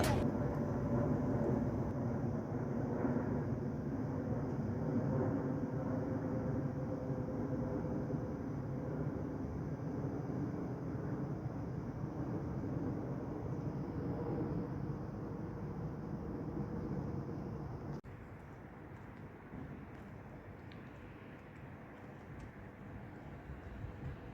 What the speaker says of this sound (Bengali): একটা বিমানের ভিডিও নিলাম সন্ধ্যার টাইমে